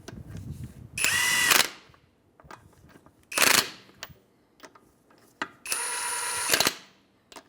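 An impact gun snugs lug nuts onto a raised Mazda CX-9 wheel in three loud whirring bursts, close up, separated by quiet pauses with faint clanks.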